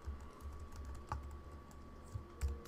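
Keys clatter on a computer keyboard as code is typed, a quiet steady run of soft clicks with a few sharper presses, close and alone with no voices.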